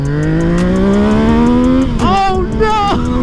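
A Yamaha MT-07 motorcycle accelerates hard and loud up close, its engine note climbing steadily before a quick shift break and further revving pulls.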